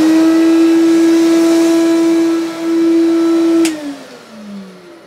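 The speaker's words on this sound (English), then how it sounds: "I'll just hoover a bit at a time." A vacuum cleaner hoovers inside a narrowboat, its loud, steady whine holding one pitch before it switches off and winds down with a falling tone.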